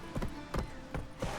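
Horse hooves clip-clopping in The Witcher 3: Wild Hunt, four evenly spaced, fairly close hoof strikes over a steady background.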